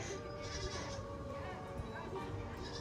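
A goat bleats amid a continuous, busy background with people's voices talking around it.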